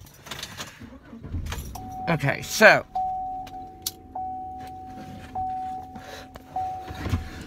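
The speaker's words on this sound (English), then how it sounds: "So let me start the car." Keys jangle close by and a car engine cranks and catches at about two seconds, settling into a steady idle. A long electronic chime tone sounds repeatedly after it starts, and a person speaks briefly.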